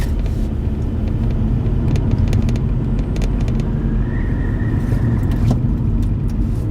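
Car driving along a Las Vegas street, a steady close engine and road rumble throughout with faint rattles and a brief rising whine partway through, no talking.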